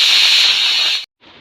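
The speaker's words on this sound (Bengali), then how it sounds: "গ্যাসটা জ্বালিয়ে প্রেসার কুকারটা বসিয়ে দিয়েছি।" A pressure cooker on a lit gas stove hisses steam in a loud, steady, close rush, cuts off abruptly, then resumes after a brief gap.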